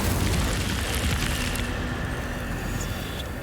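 An Incendio fire spell cast in a Harry Potter video game, a loud, continuous roaring whoosh of flame that fills the moment and slowly eases off, with no talking.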